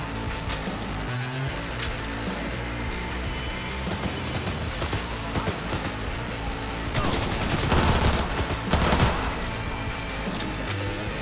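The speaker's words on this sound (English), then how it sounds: "Exchanging fire!" Sustained gunfire exchange in the video game Cyberpunk 2077, with bursts of automatic fire layered over a dense, noisy mix of game sound, swelling louder near the end.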